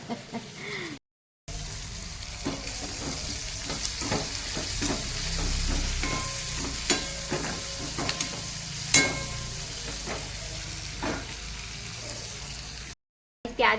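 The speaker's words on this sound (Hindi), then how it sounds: "प्याज अच्छे से फ्राई हो गई है और भिंडी भी फ्राई हो गई है। अब डाल दिए सारे सूखे मसाले, इनको अच्छे से मिक्स करके" Onion and okra frying in a pan while dry spices are stirred in, a steady sizzle with frequent spatula scrapes and clinks, close and moderately loud, briefly cut by short silent gaps at start and end.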